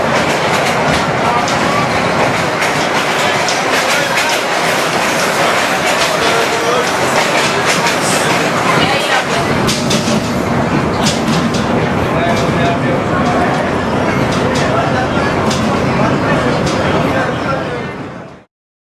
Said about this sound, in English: But the ride itself is pure vintage.